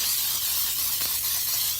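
Cooking spray hisses steadily onto a baking pan for mudslide bars, one continuous close, loud spray with no talking.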